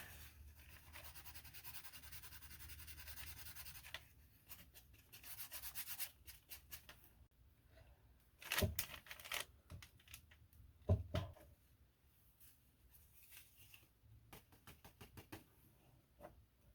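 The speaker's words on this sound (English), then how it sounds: "I'm going to try to scrape it off." Paint being scraped off a grungy Christmas journal tag, heard as quiet close rubbing and scratching strokes in uneven bursts, with a few sharper taps and scrapes, no voices.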